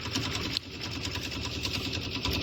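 Embroidery machine sewing the placement stitch for the bottom border of a table runner, a fast, even mechanical chatter of needle strokes that runs throughout at moderate loudness.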